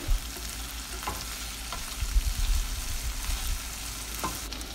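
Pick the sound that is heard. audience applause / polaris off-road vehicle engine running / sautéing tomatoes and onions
sautéing tomatoes and onions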